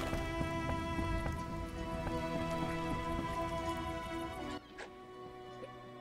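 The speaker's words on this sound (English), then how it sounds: "What a downpour." Steady heavy rain hisses under a sustained musical drone in The Witcher video game, with faint knocks scattered through, then the rain drops away near the end.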